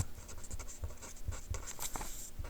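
Writing on a board: a quick series of close, scratchy strokes and taps in a quiet room, with no one speaking.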